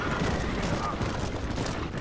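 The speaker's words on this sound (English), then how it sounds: "You're shooting right at me!" Dense, continuous gunfire in the video game Red Dead Redemption: a loud, rapid barrage of overlapping shots filling the whole stretch, with a voice talking under it.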